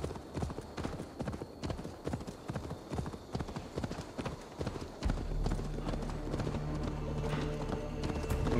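Horse hooves galloping in Assassin's Creed Valhalla, a rapid, rhythmic clip-clop close by that turns into a denser, louder rumble partway through, with speech now and then over it.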